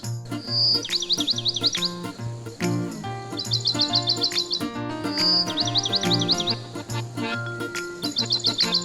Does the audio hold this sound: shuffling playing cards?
no